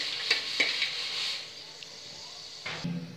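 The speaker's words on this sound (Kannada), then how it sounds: "1-2 ಮಿನಿಟ್ಸ್ ಫ್ರೈ ಆಗಲಿ" Cloves, cinnamon and cardamom frying in oil for mutton biryani, a soft steady sizzle with a few light stirring scrapes and a brief clatter near the end, close by and without speech.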